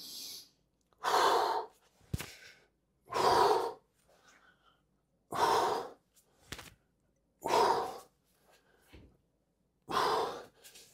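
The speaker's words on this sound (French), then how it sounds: "J'inspire." During a back-strengthening exercise, deep breaths come in a slow regular cycle, each long, airy inhale or exhale sitting close to the microphone and separated by quiet pauses.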